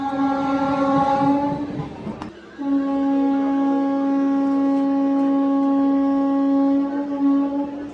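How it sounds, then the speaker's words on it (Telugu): KSR Bengaluru–Mysuru Rajya Rani SF Express pulling out of Ramanagara station: a loud, steady horn blast rings out, briefly cuts off, then resumes and sustains over the rumble of the moving train. "రామరాజ్ నగరం నుంచి మన ట్రైన్ బయలుదేరింది"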